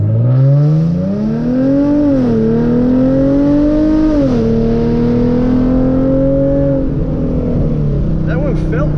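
A Hyundai Genesis Coupe 3.8 launches from a standstill, its V6 engine note climbing steadily through the revs with brief dips at the shifts, loud and close throughout, with traction control switched off.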